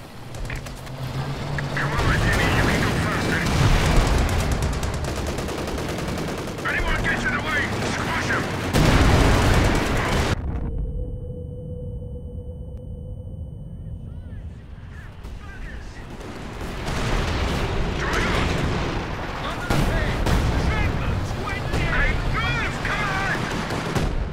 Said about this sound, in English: Artillery laying down covering fire for friendly vehicles. Fire orders received. Artillery firing on target.